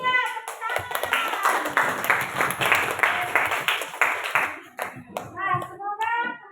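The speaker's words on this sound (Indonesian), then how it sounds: "Iya, tepuk tangan." Students in a classroom clap their hands together, a lively rhythmic burst of claps that rises and falls over several seconds while children's voices call out and chatter over it.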